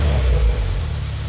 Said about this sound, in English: this is what a stock 2019 Subaru WRX sounds like